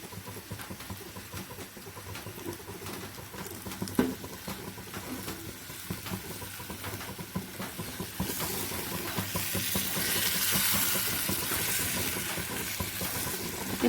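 About 750 grams of chicken with curry masala sautéing in a pan: a steady sizzle with scraping stirs, then swelling into a louder, hissing fry near the end.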